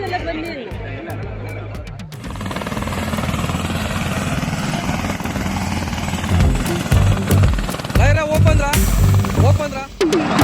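A helicopter's rotor thumps steadily close by, a heavy droning whir that swells toward the end, with crowd chatter running underneath, during tourist rides at the Sagara Mari Jatre fair.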